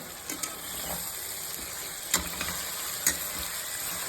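Ingredients fry in oil for a vangi bath, an eggplant rice dish, giving a faint, steady sizzle with a few sharp clicks and taps from stirring, close by and without speech.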